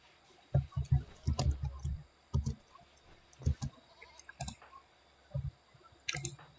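Goats bleating in the farm-colony game RimWorld, heard as a series of short, clicky bursts scattered across a few seconds with quiet gaps between them.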